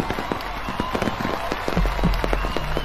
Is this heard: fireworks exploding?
yes